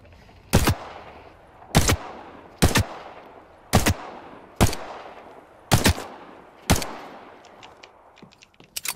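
Gunfire in The Cycle: Frontier: seven loud, sharp single shots at roughly one-second intervals, each leaving a decaying tail, then a few lighter clicks at the end; no talk.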